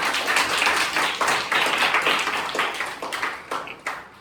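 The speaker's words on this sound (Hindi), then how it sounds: "तो इनके लिए मैं एक बार तालियां बजाता हूं।" A small audience claps steadily for a dance teacher at a Guru Nanak Gurpurab celebration, a dense run of hand claps that continues throughout.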